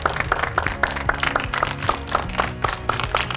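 A group of children clap together in a quick, steady rhythm, a bright burst of handclaps sustained for a few seconds in a Moroccan kids' programme.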